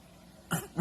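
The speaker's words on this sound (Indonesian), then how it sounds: "Jadi batuk-batukin dah." A person fakes a cough, a short dry hack following a brief quiet moment, close and fairly loud, heard alone.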